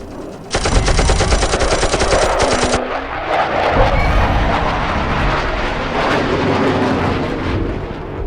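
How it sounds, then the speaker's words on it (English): Fighter jet attack in a stop-motion Godzilla film: a loud burst of rapid machine-gun fire lasting a couple of seconds, followed by a roaring jet pass and rumbling explosions. "Did either of you call a fighter jet?"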